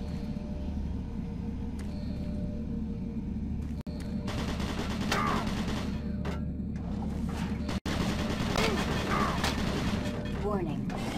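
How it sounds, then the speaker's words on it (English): Automated turret guns on the monorail level of Doom 3 BFG Edition fire bursts under steady mechanical hum. A synthetic voice speaks over them and faint sci-fi effects are heard around the shots. "Warning, automated turret guns online."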